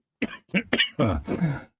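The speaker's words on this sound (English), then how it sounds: "Apologies for the sniffles and the cough." Several rough coughs in quick succession, close and clear, the last ones longer and throatier, with no other sound around them.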